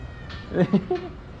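A cat meows a few times in quick succession, close and fairly loud, with a short rising and falling call over a quiet room.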